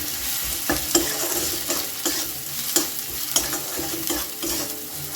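Spices with coriander powder and amchur powder being stirred and fried in a pan for egg tadka, a steady close sizzle broken by repeated scraping strokes of the spoon, with no one talking.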